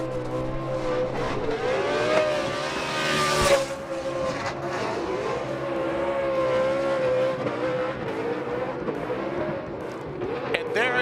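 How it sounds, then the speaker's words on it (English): A drift car burns up its tires in a celebratory burnout at Irwindale Speedway, a loud, sustained engine wail with wavering pitch and squealing rubber, a sharp burst midway, and a steady roar throughout. "ine Deane, your 2024 Formula Drift champion, the first ever 4-time champion with a celebratory burning up tires here at the iconic track, Irwindale Speedway"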